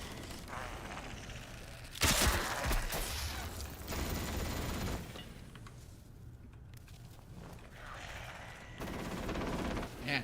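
Automated gunfire rattles in the video game Atomfall, coming in rapid bursts of shots mixed with mechanical clatter, loudest early on and then continuing more faintly.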